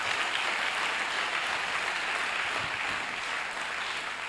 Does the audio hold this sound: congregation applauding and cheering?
yes